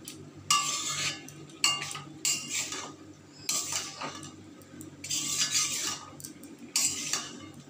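A spoon mixing ground cumin and other spices in a pot: bursts of metal scraping and clinking against the pot, in several separate rounds with short quiet gaps, close and clear, with no voices.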